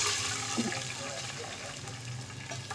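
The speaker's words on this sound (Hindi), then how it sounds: "अब इसके अंदर हम पानी ऐड करेंगे" Water pours steadily from a cup into a pot of soaked rice being cooked for sweet zarda, a continuous close splashing and trickling that runs the whole clip.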